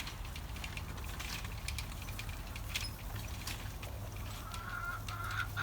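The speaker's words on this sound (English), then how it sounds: "This is a chicken yard and a chicken coop." Chickens cluck on and off in a chicken yard and coop amid a steady low rumble of outdoor background noise, with a few sharper calls standing out near the end.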